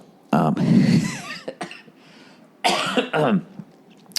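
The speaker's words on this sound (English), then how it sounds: "this cough is never going to go away" A person coughs harshly in a few rough bursts, with short pauses between them, close and loud.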